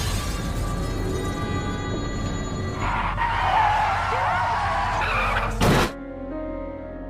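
Racing cars skid with squealing tires, a loud broad screech over engine rumble that surges midway, then a short sharp burst and thump before fading to quieter engine noise.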